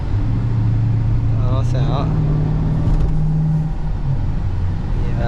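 A 2014 Dodge SRT with a Hemi engine revs up from a steady rumble, its pitch climbing and holding for a couple of seconds before easing off, close and loud beneath people talking inside the car.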